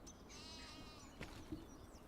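A sheep in the video game Farming Simulator 25 lets out one wavering bleat, faint and low in level over quiet background noise.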